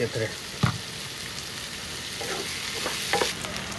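Onions browning in a hot pan with a steady sizzle, a spoon scraping and stirring through them in a few short bursts, close by.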